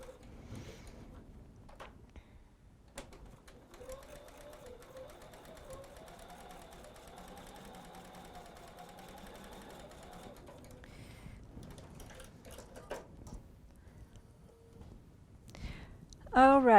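A sewing machine stitches a quilt block for a wreath sampler in one long, fairly quiet run of steady whirring, with a few clicks around it and a voice speaking quietly.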